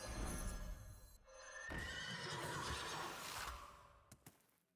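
A horse in a video game lets out a long, shrill neigh that rises and trails off, followed by a couple of short hoof knocks, close and clear.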